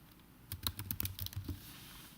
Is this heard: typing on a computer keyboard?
yes